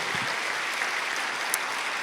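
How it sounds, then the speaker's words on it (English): At a social work research conference, a large audience gives the organising committee a steady wash of applause, even and moderately loud, with a few sharper claps standing out. "I know we've given them a round of applause, but if we could do that again"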